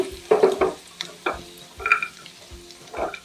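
Pistachios being dry-roasted and stirred in a pan over a medium gas flame, with irregular scraping and rattling bursts of nuts against the pan and soft sizzling between strokes.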